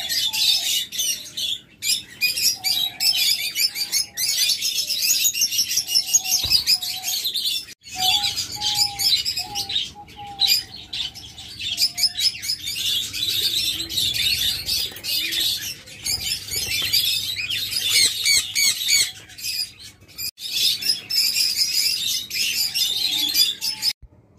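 A crowd of small, active caged birds trills and tweets nonstop for over twenty seconds, bright high chatter layered densely nearby with occasional sharper squeaks and short gaps.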